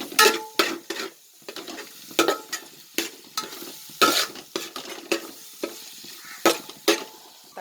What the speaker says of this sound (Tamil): இஞ்சி பூண்டு சேர்த்தாலே நம்ம வந்து பக்கத்தில் இருந்து கிளறிட்டே இருக்கணும்